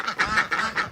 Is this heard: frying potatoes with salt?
no